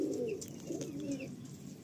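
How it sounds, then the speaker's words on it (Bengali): A pair of Malbai pigeons cooing in a loft, a soft, low rolling coo repeated a few times, close but faint, with faint higher chirps in the background. "আমরা একজোড়া মালবাই পায়রা শক করব।"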